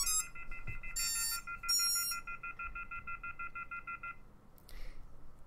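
A repeating electronic phone-off-the-hook tone pulses in short regular bursts, with a few higher beeps, fairly quiet against faint background noise, from drone flight controller equipment powered by a LiPo battery.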